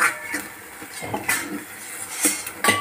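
A spoon stirs potato halwa with sugar in a pan, producing irregular metallic clanks and scrapes against the pan at close range, with short pauses between strokes and no talking.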